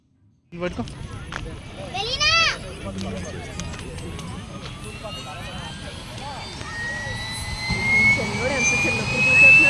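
Airbus helicopter turbine running on a helipad in Vizag, a loud continuous whine and roar that starts abruptly after a brief silence and keeps climbing, with rising tonal whines. People talk over it.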